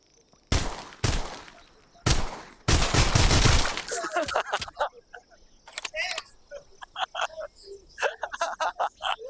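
Gunfire effects from a mixed reality VR shooting game demoed at CES 2018 in Las Vegas: a few loud sharp bursts, then a long rattling volley followed by scattered quicker shots and clicks.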